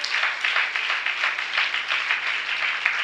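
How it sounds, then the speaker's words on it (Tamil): An audience claps steadily throughout, a dense, even patter of many hands with no voices rising above it. "இங்கதான் கைத்தட்ட வருது"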